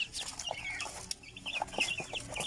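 Native chicks, now fairly large, cluck and peep close by in a rural setting, a busy mix of short chirps and soft clucks with no talking.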